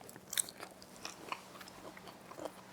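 Close, quiet crunching and soft chewing come from a mouthful of blanched, unseasoned spinach, in a few irregular bites with no talking.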